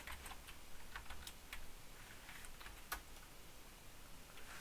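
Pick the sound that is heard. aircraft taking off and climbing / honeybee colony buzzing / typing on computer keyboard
typing on computer keyboard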